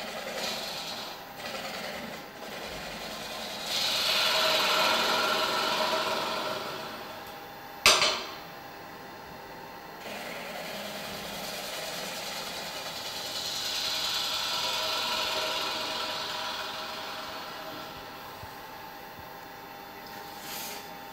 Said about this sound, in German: Boden drehe ich am liebsten mit einem Ringmesser.